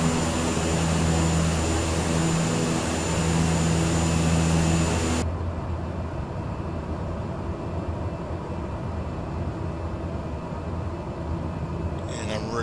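A general aviation aircraft engine in Microsoft Flight Simulator drones steadily on approach with flaps extending, then the power is pulled back and the tone drops to a softer, broadband hum that lasts to the end.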